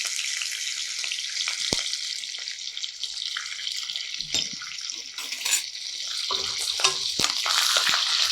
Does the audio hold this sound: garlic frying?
yes